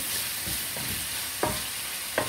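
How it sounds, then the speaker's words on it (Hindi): Goat heart and kidney pieces with green chillies fry in oil in a pan, giving a continuous sizzle and a few sharp spatula scrapes, close up. "अब हम इसको इसी में ही थोड़ी देर के लिए अच्छी तरह से भून लेंगे"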